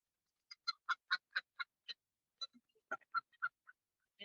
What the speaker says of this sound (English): We've got some noisy Canada geese here.